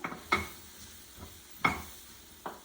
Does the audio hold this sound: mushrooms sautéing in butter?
yes